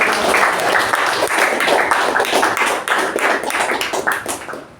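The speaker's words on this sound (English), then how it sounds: "please give a huge round of applause to our president." Loud, dense applause from a crowd, steady clapping filling the whole stretch before tapering slightly at the end.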